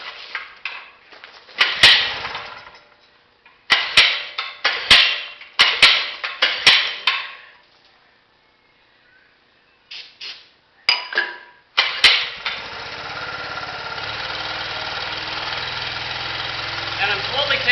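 Gas generator engine with full choke after fuel was squirted into the intake, several rough bursts of pull-start cranking, a pause, then more tugs until it catches and settles into a steady, close idle.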